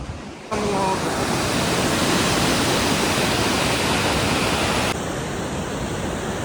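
Water from an overflowing village weir rushes and churns during a cyclone, a loud, steady broadband roar that starts abruptly and continues unbroken, dropping slightly in level near the end.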